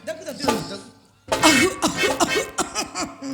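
An actor in a staged performance of the Telugu drama Chintamani coughs theatrically, a couple of harsh bursts separated by a brief pause, close and clear, with voice-like tones woven through the coughs.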